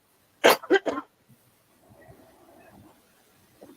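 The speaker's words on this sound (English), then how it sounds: "I'm starting to cough again." Three sharp, close coughs in quick succession, followed by a faint low rumble of background noise.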